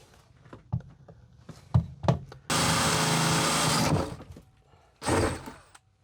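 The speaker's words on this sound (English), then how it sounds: "go ahead and drill a hole" A power drill whines steadily for about a second and a half while drilling a hole in a box van, then a second shorter burst follows, with a few knocks and clunks before it.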